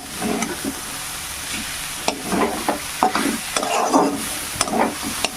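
Bathua greens being stirred and fried in a pan, rhythmic scraping strokes over a continuous soft sizzle, close and fairly loud with sharp clacks of the spatula.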